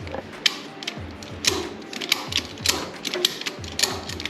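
Ratchet strap being cranked tight on a bike rack, a steady series of close mechanical clicks and creaks repeating roughly every half second with no talking.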